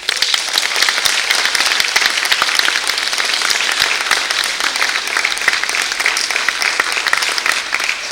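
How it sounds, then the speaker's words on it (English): A large audience gives a loud, steady round of applause for the parents at a speech event, with dense and continuous clapping throughout. "So once again, this time, a huge round of applause for"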